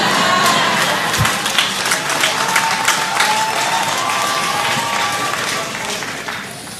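A church congregation claps and cheers during a sermon on marriage, a loud dense burst of applause that fills the room and slowly tapers, with faint voices mixed in.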